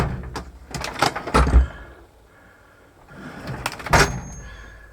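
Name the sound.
tool drawers of a boat workbench being opened and closed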